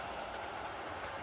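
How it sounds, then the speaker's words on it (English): A model train runs along its track with a steady, close rolling rumble and faint clatter of wheels, heard alone without talk. "Now you see how good this train's been running"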